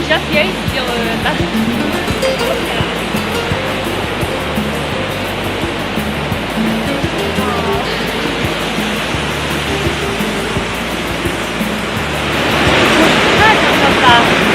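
The Zhane waterfalls near Gelendzhik in winter pour as a loud, continuous broadband rush close by, swelling slightly toward the end, with no other sounds standing out.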